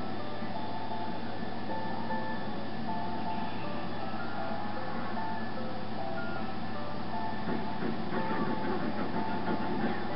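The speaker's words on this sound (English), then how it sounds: "Leave my ice cream truck alone." Ice cream truck jingle from the video game GTA plays continuously at moderate level over a steady mechanical background hum, with no talking.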